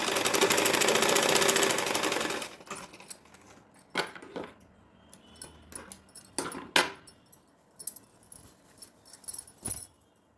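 A sewing machine stitches the seams of a choli for an Anarkali gown made from an old saree: a loud, steady whirring run of about two and a half seconds, followed by scattered clicks and handling knocks, with no talking.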